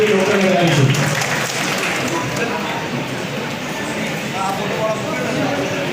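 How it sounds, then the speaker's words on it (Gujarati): Audience applause welcoming a doctor who earned an MD in Ayurveda at a district police felicitation ceremony, a sustained wash of clapping that runs under a brief announcer's voice at the start. "તાળીઓથી ડોક્ટરને બોલાવીશું."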